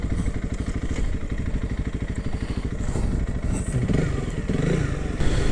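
A Honda CRF300L motorcycle engine thrums steadily and close while being ridden, a continuous pulsing drone with wind rush and slight rises in revs.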